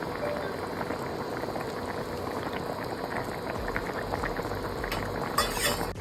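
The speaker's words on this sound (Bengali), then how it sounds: "মাছ দিয়ে এখানে আর বেশ কিছুক্ষণ ফুটাবো" Koi fish curry with taro simmering in a pan, a quiet, steady boil of bubbling and popping that continues throughout, with a faint clink near the end.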